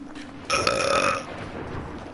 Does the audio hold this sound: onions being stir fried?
no